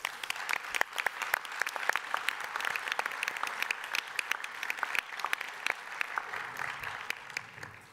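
A room of people claps steadily for several seconds at a prize ceremony, a moderate round of applause with no voices.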